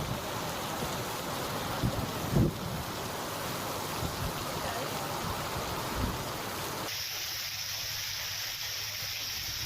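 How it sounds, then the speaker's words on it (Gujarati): Heavy rain driven by strong wind pours down steadily in Mangrol, Junagadh, a dense continuous wash of noise with a few brief low thumps and no voices. "ભારે પવન સાથે ધોધમાર વરસાદ વરસ્યો છે"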